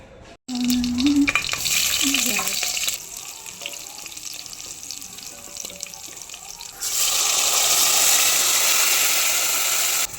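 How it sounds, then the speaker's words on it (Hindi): Vegetable pulao with a garlic and green chilli tadka frying in a home kitchen, a steady sizzle that swells louder toward the end, with brief clinks and tones early on. "तो पुलाव को कर दिया है मैंने फ्राई"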